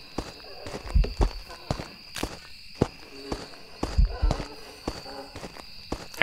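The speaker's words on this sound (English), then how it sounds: "Actually, its footsteps sound kind of slow." Ghost footsteps during a hunt in the horror video game Phasmophobia, a series of fairly slow, heavy thuds at an uneven pace over a steady high-pitched game tone, with faint background sounds between the steps.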